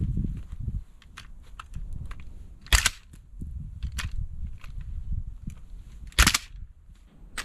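Rifle mortared against a surface to free a stuck, bulged case in a Hammer Hunter 22 DPC: two sharp loud impacts several seconds apart amid smaller knocks and handling clatter, close up.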